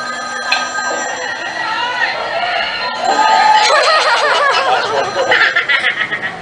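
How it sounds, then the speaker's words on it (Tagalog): A telephone rings in a TV show episode, bright repeated ringing over a busy mix of crowd noise, laughter and voices, growing louder and more rhythmic toward the end. "Nag-ring. Telepono."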